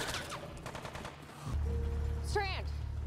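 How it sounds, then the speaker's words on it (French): Gunfire from an episode of the TV series Fear The Walking Dead: a few sharp shots early on, followed by a low rumble and a quick chirping burst, under a person's excited talk. "Il décide de tirer, tiens."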